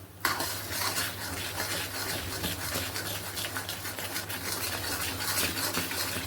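A spoon scrapes and stirs peda milk-sweet mixture nonstop in a pan over a medium flame, a close, constant gritty scraping with faint sizzling underneath and no talking.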